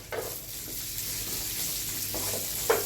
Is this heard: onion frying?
yes